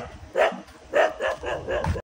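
Village dogs bark at a passing walker, a run of six or seven close, loud barks over two seconds, cut off abruptly at the end.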